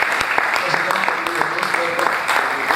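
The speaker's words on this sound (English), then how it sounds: "Please thank you for the applause." Audience at a scientific society conference applauds with a brief burst of clapping, and voices are heard over it.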